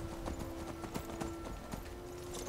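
Rhythmic clip-clop of horse hooves at a steady trot in The Elder Scrolls V: Skyrim, fairly quiet, with a faint sustained tone in the background.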